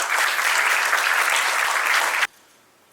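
A business event audience gives a warm round of applause, a dense, steady wash of many hands clapping at close range that stops abruptly, leaving near silence.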